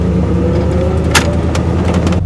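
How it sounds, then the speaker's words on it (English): An old SUV engine heard from inside while driving, a loud, steady low drone with road rumble and a brief rattle or click partway through. "The engine is like so smooth."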